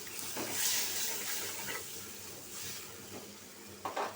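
Spices sauté in a pan for a prawn and ash gourd curry, a quiet continuous sizzle with occasional soft stirring scrapes.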